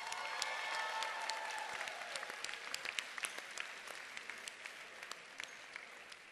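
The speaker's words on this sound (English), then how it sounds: "Having a big round of applause for Adam Burish." A crowd applauds at a kids-only hockey press conference, a fairly quiet, steady patter of clapping that thins out into scattered distinct claps toward the end.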